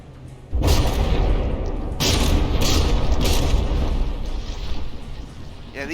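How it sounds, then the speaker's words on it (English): Battleship guns firing in From the Depths, a naval battle between the Puget and the Bismarck, with loud deep booms arriving in separate heavy blasts, each followed by a rumbling tail. "Is this gun even firing still, or? I mean, it's simply aiming. Oh, yep, there it goes."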